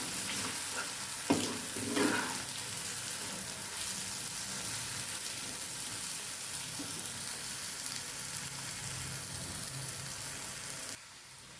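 A mixture stirred in a pan on a gas stove, a continuous close sizzle with a couple of louder spoon scrapes near the start, then steady frying until it cuts off abruptly near the end.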